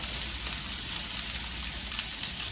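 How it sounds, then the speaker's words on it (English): Beef pot roast searing in a hot pan, a steady close sizzle and crackle of frying meat with no voices over it. "you do want to go ahead and sear all sides of this"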